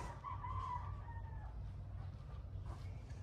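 Chickens on a farm in Nueva Ecija cluck and a rooster gives a short, distant crow over a constant low background rumble, faint and outdoors.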